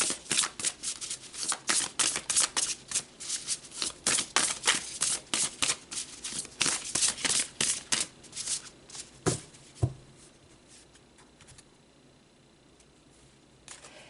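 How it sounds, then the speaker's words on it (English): Tarot cards are shuffled by hand up close in a quick, steady flurry of crisp riffling slaps for about ten seconds. The sound then trails off into a few scattered taps and near silence. "let's pull some more cards"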